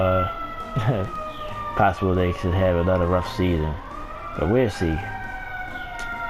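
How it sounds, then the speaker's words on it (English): An ambulance siren passes outside, its steady wailing tones running faintly beneath close conversational speech for the whole stretch. "Sorry about the noise. That's the ambulance."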